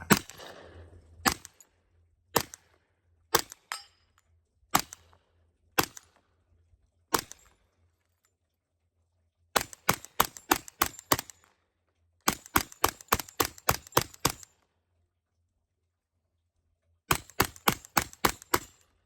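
.45 ACP pistol shots from a Glock fed by a Korean-made magazine, loud sharp cracks fired singly at first, then in rapid bursts of several shots with short pauses between strings.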